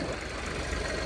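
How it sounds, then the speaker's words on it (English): An engine running steadily near idle, with a slight rise in revs while its throttle is being repaired; a continuous close, low rumble with no voices. "Revved up just a little bit."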